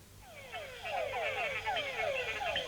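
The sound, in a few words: mud puddle frog call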